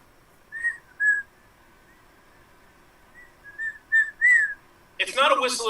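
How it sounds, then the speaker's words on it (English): A performer at an improv comedy show whistles a short song tune in clear, separate notes, a few phrases with pauses between, then a loud burst of noise from the crowd or room cuts in. "It was a whistle."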